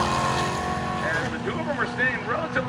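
A Ford Mustang GT Fox-body and a Pontiac GTO drag racing side by side at a strip, with a steady engine drone and gear changes carrying through while a commentator talks over it.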